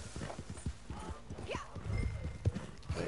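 Horse hooves clip-clopping in the video game Red Dead Redemption 2 on a tired mount, a steady rhythmic series of hoof thuds close by over faint game ambience.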